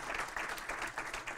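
A brief burst of audience applause, many hands clapping together at a moderate distance.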